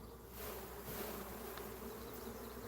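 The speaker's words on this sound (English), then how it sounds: "there should be a lot of young bees because they're nurse bees" Nurse honey bees buzzing in a hive after heavy smoking, a steady, close, low-level drone of many insects with no talking.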